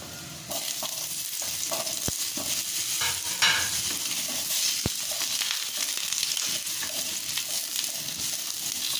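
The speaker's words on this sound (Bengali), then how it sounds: "এবারে আমি আলুগুলো লাল করে ভেজে নেব।" Potatoes frying in mustard oil in a kadai on a gas stove, a loud continuous sizzle nearby with scraping stirs and a couple of sharp utensil knocks.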